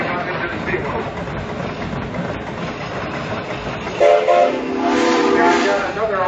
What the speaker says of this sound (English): I've got Buffalo Spring steamroller